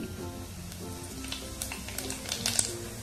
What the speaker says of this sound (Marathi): तेल आता चांगलं तापलेलं आहे. आपण जिरे मोहरी टाकूया.